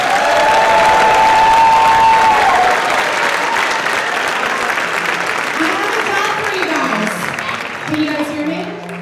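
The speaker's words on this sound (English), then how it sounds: "So one more round of applause for Mega Band." Loud, dense applause from a school audience for a combined elementary district band at a concert, with a faint cheer or whistle early and murmuring voices mixed in as it continues.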